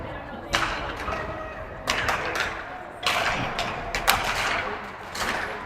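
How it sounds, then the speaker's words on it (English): Youth hockey players at a peewee game between Eagan and Hastings bang their sticks on the ice, heard as several loud sharp clatters across the rink over steady arena crowd noise. "Egan's banging their sticks"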